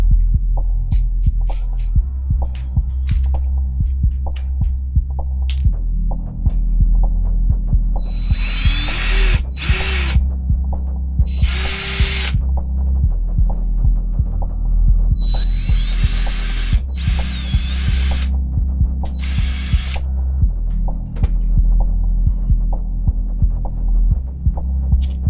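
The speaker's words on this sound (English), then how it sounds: "Guess we're gonna have to drill that out." A power drill boring a 3.5 mm hole in a 3D-printed part, heard as a loud, steady throbbing motor hum with several bursts of high whining drilling, close and without talk.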